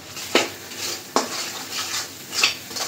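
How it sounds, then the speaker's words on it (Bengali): A metal spoon stirs spices frying in a pan for a restaurant-style pomfret fish curry. It scrapes and clinks against the pan several times, close and clear, over a soft, steady sizzle with no voices. "মশলাটা কষাই নিই।"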